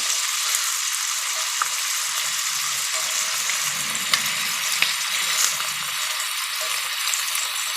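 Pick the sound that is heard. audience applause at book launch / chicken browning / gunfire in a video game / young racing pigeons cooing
chicken browning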